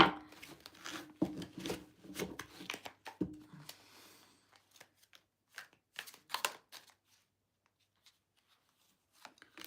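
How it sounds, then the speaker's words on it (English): Quick riffling and snapping of a card deck being shuffled, a few bursts close by, then sparse soft clicks and quiet. "I need another shuffle."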